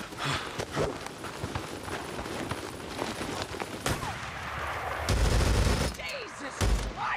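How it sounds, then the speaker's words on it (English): Sniper gunfire during an ambush in the open-world game Days Gone, with sharp shots and bursts cracking through busy game noise, some hoofbeat-like thuds and loud impacts near the end, and a voice talking at times. "Damn it, sniper ambush."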